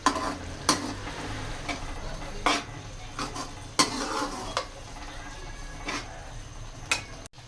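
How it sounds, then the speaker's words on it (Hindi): Ghiya tori (gourd) sabzi stirred in a pan over medium flame, with soft sizzling beneath repeated sharp scrapes and clinks of a spoon against the pan, close and irregular. "तो ये देखिएगा, इसे अच्छी तरह अब हम मिक्स कर लें।"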